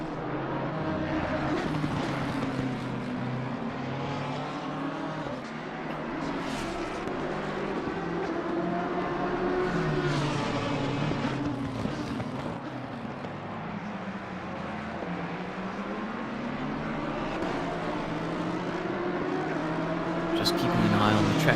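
A BMW GT3 race car in a sim racing game at Suzuka revs hard and accelerates, its engine note rising and falling through gear changes, loud and continuous under steady commentary voices.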